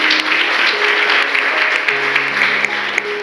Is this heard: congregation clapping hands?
yes